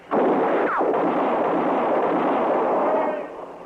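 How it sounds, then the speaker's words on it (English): Sustained gunfire from a Western radio drama, a dense roaring burst of shots lasting a few seconds, loud and close, then cutting off. "Just keep firing, Chester."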